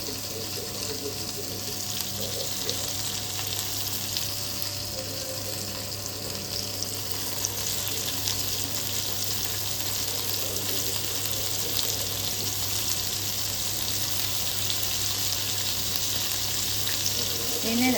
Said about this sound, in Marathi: मस्तपैकी स्वच्छ करून घेते आणि मग फ्राय करते.